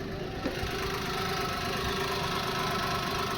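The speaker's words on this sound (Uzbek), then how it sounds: "Motori qaranglar ishlashini." A 2013 Daewoo Matiz with an automatic gearbox idles nearby, its engine humming and ticking in a steady, even rhythm with no voices over it.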